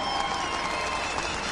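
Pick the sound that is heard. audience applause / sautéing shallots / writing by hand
audience applause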